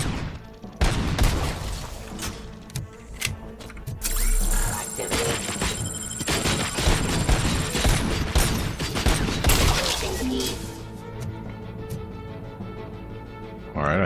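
Heavy gunfire from the Robocop Rogue City video game rattles in dense, loud bursts and single shots over about fourteen seconds, mixed with impacts and game effects, with a voice briefly heard.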